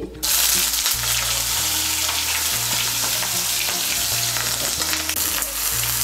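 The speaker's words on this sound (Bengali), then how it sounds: "তেলটা গরম হয়ে গিয়েছে, এর মধ্যে আমি বেগুনগুলো ভেজে নিচ্ছি।" Thin strips of a large eggplant frying in hot oil make a loud, continuous, close sizzle that runs unbroken throughout over a low background hum.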